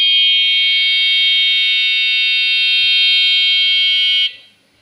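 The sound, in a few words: motion-triggered cattle theft alarm device sounding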